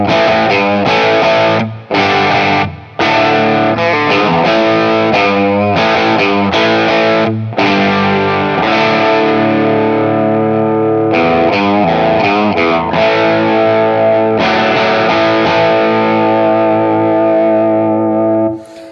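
Vox Bobcat hollowbody guitar on the bridge pickup with the tone control rolled back slightly, a loud, distorted, softened tone strumming chords and riffs with short breaks between phrases.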